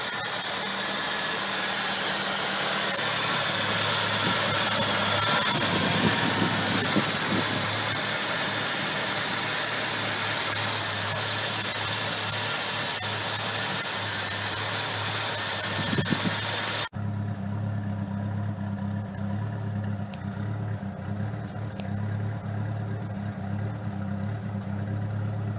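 A freshly rebuilt 1986 Mustang SVO turbo engine runs after its first startup, holding a steady rumbling idle with some vibration, and the sound shifts to a quieter, duller tone partway through.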